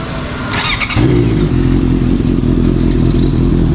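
A superbike engine fires up outdoors with a sharp start, then settles into a loud, steady, close idle with a deep throaty rumble.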